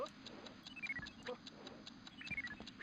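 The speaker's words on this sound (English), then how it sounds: "What's with the ticking noise?" Steady clock-like ticking from the video game Rayman Revolution, a regular rhythm of quiet ticks over soft whimsical game music and faint chirps, running throughout at low level.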